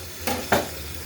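Winter vegetable bhaji being stirred in a pan, with two short scraping strokes over a low steady sizzle, close and fairly quiet.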